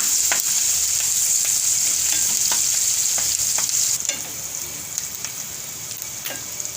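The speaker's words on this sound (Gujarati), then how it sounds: "હવે આપણે આ ડુંગળી પહેલાં નાખી દેવું. તો ડુંગળીને આપણે સેજ લાલ જેવી ખાવા દેવાની છે." Onions fry in a pan for a sweet potato and potato curry, giving a loud, continuous close-up sizzle with occasional sharp pops and light clicks of a spatula against the pan. No one talks.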